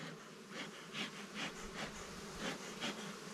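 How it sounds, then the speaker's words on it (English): Honeybees humming inside a hive during a late-summer ranch inspection, a low steady insect drone with soft swells, faint and close, with no talk. "I can clearly hear the buzzing going on inside."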